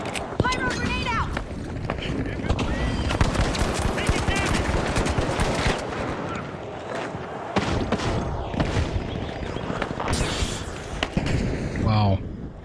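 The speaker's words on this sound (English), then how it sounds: "Pyro grenade out!" Rapid automatic gunfire and bursting blasts from a pyro grenade in a video game shooter, dense and continuous throughout, with a voice talking over the chaotic firefight.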